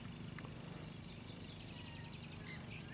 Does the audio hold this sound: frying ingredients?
no